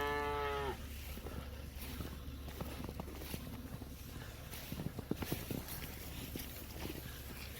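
Cattle being fed fine dry hay grass after a snowstorm, with one clear moo at the start followed by shuffling, chewing and hoof steps against a steady low background hum.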